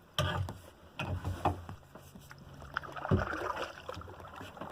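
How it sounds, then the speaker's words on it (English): A kayak is paddled out on a calm lake for trolling, with irregular paddle splashes, light knocks against the hull and gentle water noise nearby. "I'm going to paddle out, drop my lines, start trolling around the lake"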